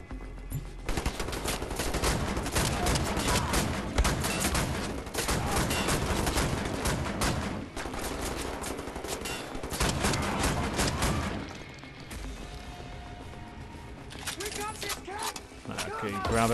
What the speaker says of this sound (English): I may as well equip dual wield shotguns.